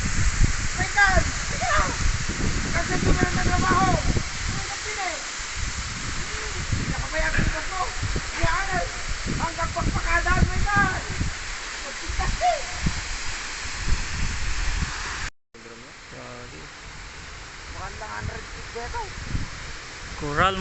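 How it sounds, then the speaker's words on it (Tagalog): Water pours steadily at Snow Falls in the north of the Philippines, a broad continuous rushing hiss close by, with people talking over it throughout. "Snow Falls isa sa pinakamagandang falls dito sa norte"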